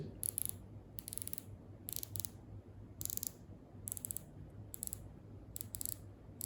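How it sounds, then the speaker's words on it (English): A Baltic Aquascaphe dive watch bezel turned through its 120-click ratchet, giving short bursts of fine, crisp clicks heard close and quiet, separated by brief pauses. "really solid, sure, steady bezel action. It's 120 clicks, and there's no backplay"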